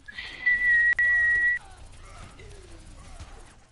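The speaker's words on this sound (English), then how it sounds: "And then the whistle, pure terror comes out of nowhere." A high, steady whistle sounds out loud and close for about a second, with a brief break in the middle, then gives way to quieter background noise and a few faint, murmured sounds.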